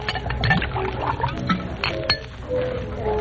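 A bottle clinks against a glass and liquid pours, part of an old-time radio crime drama set in a 1940s bar scene; close glassy clinks and a splashing pour, with no talk over it.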